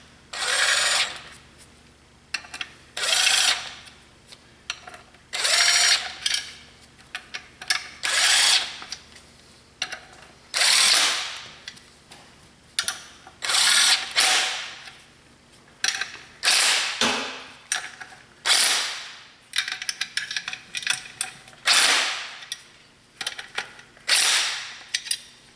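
A power tool runs down bolts while a Honda S2000 clutch is installed, firing in a long series of short, loud, close bursts with brief pauses between them, with no talk.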